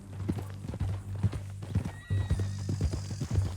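A horse in Red Dead Redemption 2 clip-clops along with steady hoofbeats, then lets out a high, drawn-out whinny partway through, close up over a low rumbling background.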